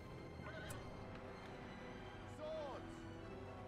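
Gondor knights' horses whinny in the real-time strategy game The Battle for Middle-earth, with faint hoof clip-clop under game noise, one clear neigh near the middle.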